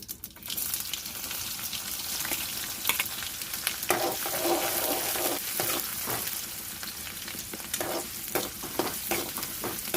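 Onion with mustard seeds, red chillies and curry leaves sizzles steadily in a pan for a chana batata shaak, a loud continuous frying hiss with scattered crackles and stirring scrapes, no talk.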